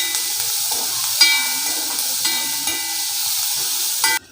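Onions with ginger-garlic paste and turmeric sauté in a pan, giving a steady, close, bright sizzle with occasional stirring scrapes and clicks, stopping abruptly at the end.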